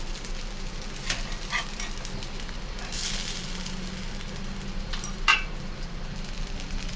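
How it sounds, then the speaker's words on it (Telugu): Rotis cooking on a hot pan give a steady low sizzle with soft scraping and handling noises, and one sharper clink near the end; no one speaks. "ఇవన్నీ రొట్టెలు వేస్తున్నాను"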